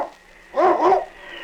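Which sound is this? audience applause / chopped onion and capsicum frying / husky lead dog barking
husky lead dog barking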